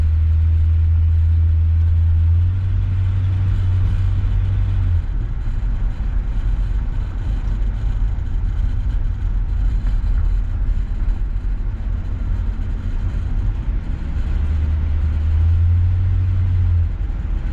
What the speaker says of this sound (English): Just thought some people like go for a ride in the car